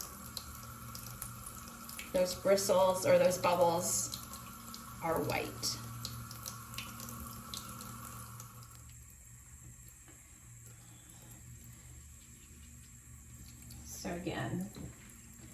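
Tap water runs over a paint brush being rinsed clean at a sink, in splashy bursts that start and stop, while a person talks over the flow.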